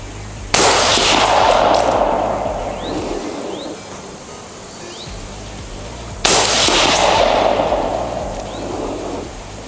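Two sharp, loud rifle reports from a Daniel Defense rifle being zeroed outdoors, each cracking suddenly and then rolling off in a long, fading echo, with several seconds of quiet between them.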